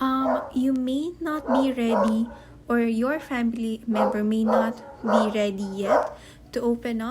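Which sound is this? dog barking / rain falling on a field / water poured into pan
dog barking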